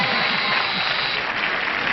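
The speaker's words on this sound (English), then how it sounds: "The weirdos are applauding your answer" A 1975 CBS daytime game show studio audience claps in a steady, muffled wash of applause that holds evenly for a couple of seconds.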